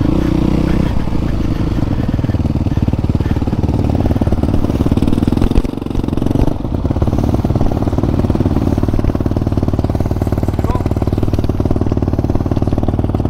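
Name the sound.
motorcycle engine idling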